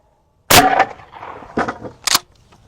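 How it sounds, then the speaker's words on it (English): A .50 caliber rifle fired into a stack of wooden cutting boards: one sharp, loud blast with a short ringing tail, then two fainter cracks or thuds echoing afterward, no voices. "huge boom from the slug"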